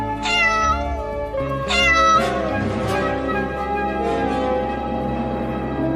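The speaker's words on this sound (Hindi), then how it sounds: "बिल्ली का बच्चा है और ये रोड पर किसी कार से कुचल गया है।" A cartoon kitten, injured after being run over by a car on a road, gives two loud, drawn-out, plaintive meows close up, followed by quieter, wavering cries.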